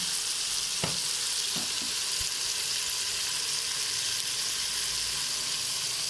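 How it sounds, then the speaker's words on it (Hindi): Chickpeas frying with cumin powder in a pan make a steady, loud sizzle throughout, with a few soft clicks of stirring near the start. "2 मिनट मैं इनकी भुनाई कर लूँ।"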